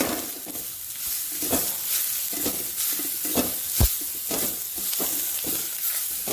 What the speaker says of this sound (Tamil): போட்டுட்டு ஒரு கலர் கலருங்க, எல்லாம் ஒன்று சேர்ற மாதிரி.